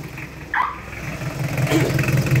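A Mitsubishi Pajero 4M40 diesel engine runs after new glow plugs are fitted, a steady low rumble close by with a brief higher whine partway through, continuing alone.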